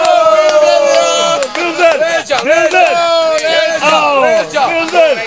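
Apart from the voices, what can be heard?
children cheering at a kids party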